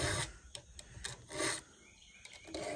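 A hand file rasps against a chainsaw chain during sharpening, a quiet run of short, rhythmic scraping strokes with brief gaps between them.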